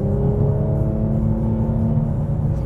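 A 2017 Mercedes-AMG E 43 with a 9-speed transmission accelerates, its engine droning loud and steady from inside the cabin with a smooth, rising hum.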